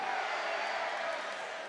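An arena crowd at an indoor soccer game at Frontwave Arena, Utica City FC against the San Diego Sockers, roars in a steady, dense wash of cheering throughout.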